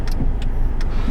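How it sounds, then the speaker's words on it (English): One car passes along the road nearby, a brief, fairly loud rolling swoosh of tires and engine noise with faint ticking clicks, and no voices. "We gotta wait for this one last car"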